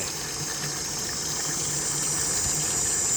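A 12 V battery-powered pump pushes groundwater into a 130-litre tank, making a steady rushing gush of water with a constant pump hum underneath, close and continuous, with no speech.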